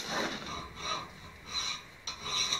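A hand file works a metal foot peg for a Ducati 250 motorcycle, held in a vise with brass jaw inserts, producing close, rhythmic rasping strokes, roughly five long passes in a row.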